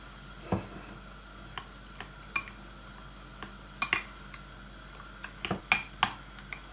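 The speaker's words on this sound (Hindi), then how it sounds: "इसको हम अच्छे तरीके से दूध के अंदर ना मैश कर लेंगे" Bread pieces being mashed into milk in a bowl for kulfi, with scattered light clinks and taps of a utensil against the dish, quiet and close with no talking.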